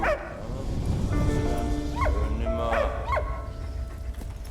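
Cartoon dog barking and yipping in the World War I game Valiant Hearts, several short barks over a steady music and ambience bed, fairly close and clear.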